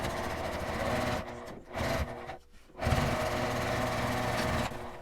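Sewing machine stitching a 1 cm seam along the edge of a nylon box pouch, a steady mechanical whir that pauses briefly twice before running on, with no talking.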